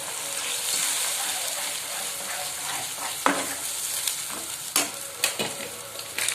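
Whole spices and bay leaf frying in hot oil for fish korma, a steady loud sizzle running throughout with occasional sharper spatters and stirring knocks toward the end.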